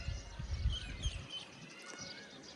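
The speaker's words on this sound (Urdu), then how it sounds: "پرندوں کی خوبصورت آوازیں ماشاءاللہ سے" Birdsong drifts over a mountain village rooftop with wheat fields and rain nearby: thin high chirps and calls scattered through the clip, faint and distant, over low rumbling background noise that fades after the first second.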